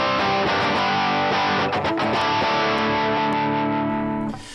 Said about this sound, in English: you're getting some distortion on the input because you've got that 19 dB of gain